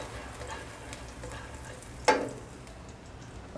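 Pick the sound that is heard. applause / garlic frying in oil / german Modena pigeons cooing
garlic frying in oil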